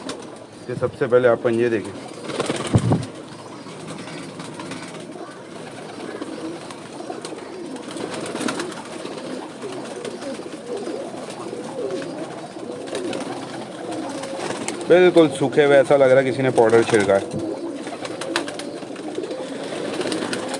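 Pigeons coo in a loft, with soft throaty burbling calls now and then, the loudest bursts near the start and again later on. Someone talks over much of it.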